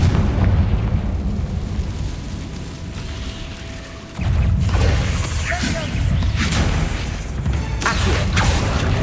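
Confringo fire spell blasts in the Hogwarts Legacy video game: a few loud, booming bursts, one near the middle and a pair toward the end, over a constant rumble of game ambience.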